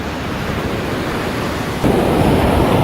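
Pacific Ocean surf breaking on a quiet stretch of beach at Mancora, Peru: a broad, loud, continuous wash with a surge of heavier roar partway through, mixed with some wind buffeting the microphone.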